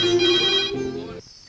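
A telephone ringtone rings out loud and close in a dubbed Hindi movie scene, a steady melodic tone that cuts off abruptly.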